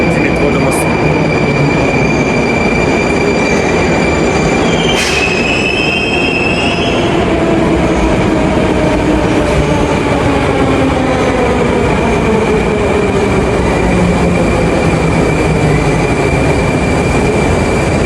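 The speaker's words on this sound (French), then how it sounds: "c'est le métro de Moscou et la station Arbatskaya" A Moscow metro train at Arbatskaya station runs loudly and continuously, with a strong rumbling roar, rhythmic wheel clatter and high squealing tones from the wheels and motors.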